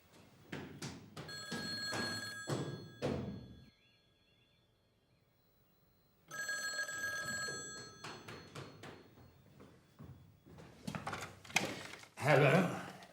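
Classic telephone bell rings in two distinct bursts of rapid ringing separated by a quiet pause, with a voice speaking briefly near the end.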